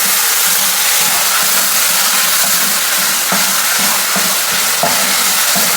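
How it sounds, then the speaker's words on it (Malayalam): A masala for Kerala prawn roast fries in a pan as water is poured in, giving a loud, steady sizzle and hiss with faint stirring scrapes throughout. "ആവശ്യത്തിന് വെള്ളം ഒഴിച്ചു കൊടുക്കുക."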